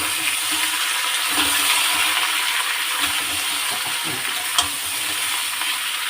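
Vegetables frying in a pan with grated ginger, giving a loud, continuous hiss and sizzle with occasional stirring scrapes and one sharp clink, all close up.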